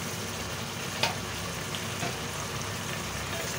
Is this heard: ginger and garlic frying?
yes